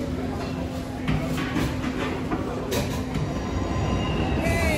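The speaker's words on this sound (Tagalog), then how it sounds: "ayan na yung train namin guys. Uh, going to Geneva." A train pulls into a Swiss railway station on a service bound for Geneva, its steady rolling rumble and faint wheel noise carrying through platform ambience with brief talk nearby.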